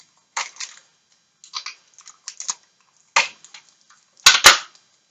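Adhesive tape is torn and pressed down while a cardboard Mars rover model is built, heard as short close rips and crackles in separate bursts with silent gaps between them, ending in two sharper louder pulls.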